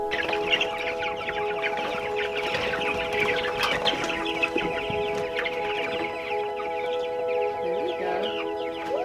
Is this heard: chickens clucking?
yes